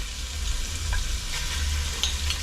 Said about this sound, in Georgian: პირველ რიგში ტაფაზე გადმოგვაქვს საქონლის ფარში